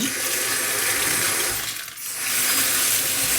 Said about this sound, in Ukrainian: Все почнеться з того, що я буду мити гриби.